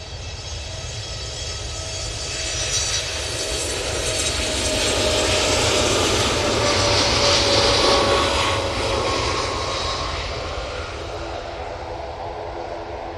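A Boeing 787 Dreamliner takes off at Manchester Airport, its broad jet roar building steadily, peaking near the middle as it climbs past, then easing slightly while staying loud and continuous throughout.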